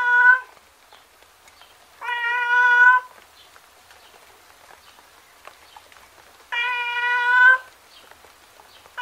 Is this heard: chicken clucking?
no